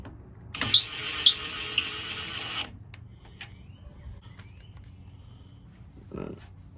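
Bull bar bumper mounting bolts on a Toyota Tundra get snugged down with a power tool, one sustained whirring burst with sharp clicks, then quieter taps and a faint thud, close by, with someone talking.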